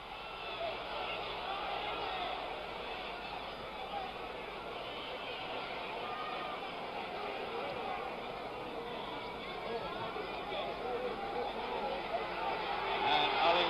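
A large boxing arena crowd at the Muhammad Ali vs Ron Lyle fight keeps up a steady, dense roar of cheering and chatter that swells slightly toward the end, with no break in the noise.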